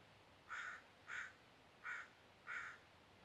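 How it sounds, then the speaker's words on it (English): Crows in a forest give four evenly spaced caws, faint and distant, with no other sounds around them. "Everybody listen, the crows are telling us something about desire."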